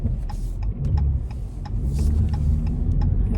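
A Jeep Cherokee drives through town traffic, a steady low cabin rumble of engine and road noise heard from inside, with faint rhythmic clicking on top.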